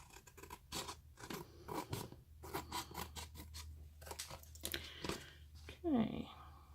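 Scissors snip through fabric scraps for a handmade farmyard journal, with several short, close crisp cuts under quiet talking.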